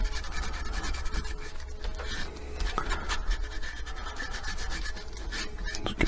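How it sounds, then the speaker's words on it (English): Wax being rubbed and brushed into newly exposed pallet wood, a steady close-up scratchy rubbing with continuous back-and-forth friction strokes and no speech. "it takes quite a lot of wax, so I brush it on gently to start with"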